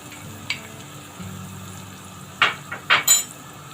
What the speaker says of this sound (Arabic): ونبتدي نحور الدقيق